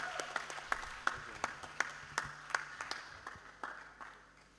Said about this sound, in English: Round of applause for mommy, please.